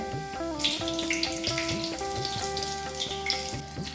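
Chilli bajji frying in hot oil, a steady close sizzle and bubbling that runs throughout with a broad hiss, with no talk over it.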